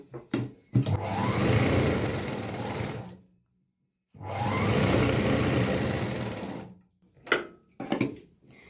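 A sewing machine stitches a girl's petticoat in two long, steady runs of loud mechanical whirring, each about two and a half seconds, with a silent pause between them and a few faint clicks and handling sounds at the end.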